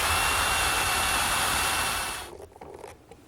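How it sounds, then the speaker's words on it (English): A power drill pre-drills holes in a wooden jig, its high, steady whine running loud and continuous, then cutting out abruptly and leaving quieter handling noises and faint rattles. "And once again, I'm going to pre-drill the holes."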